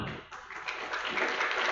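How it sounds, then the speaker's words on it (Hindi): Steady applause from a film festival audience at an awards presentation for a musical short film, a continuous dense clatter of many hands that builds slightly and stays fairly loud throughout. "तालियां जरा जोरदार बजा दीजिए।"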